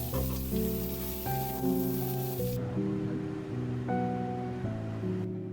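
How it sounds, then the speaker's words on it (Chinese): Shrimp frying in a pan for a crab pot dish, a steady sizzle under soft background music, turned over partway with a shift in the frying sound. "虾很容易熟，给它翻个面"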